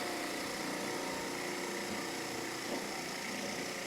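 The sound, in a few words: gouge cutting wood on a lathe, turning a finial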